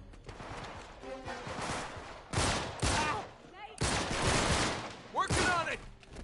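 Rapid bursts of gunfire in the video game Uncharted 3, loud and repeated in several volleys with crashing impacts, while a person speaks briefly between shots.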